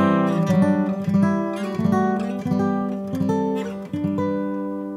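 An acoustic guitar is strummed in a series of ringing chords, each stroke sustaining with a clear, bright open string humming through.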